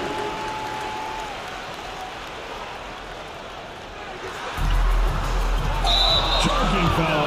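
In the NBA 2K24 basketball video game, a large indoor arena crowd bursts into loud, sustained applause and cheering midway through, after a stretch of low arena murmur.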